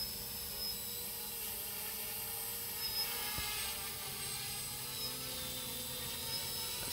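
An NXP HoverGames drone lifts off while carrying a camera gimbal, its rotors giving a steady, fairly quiet buzzing whine throughout with faint high tones, no voices.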